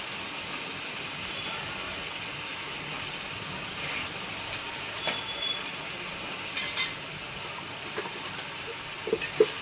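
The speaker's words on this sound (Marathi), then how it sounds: "तेलामध्ये लाल अद्रक लसूण पेस्ट चमचा टाकायचा आहे आपल्याला" Red ginger garlic paste sizzling in hot oil, a constant bright hiss with occasional small clinks and scrapes of a spoon in the pan, no talking.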